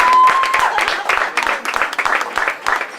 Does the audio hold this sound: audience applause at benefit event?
yes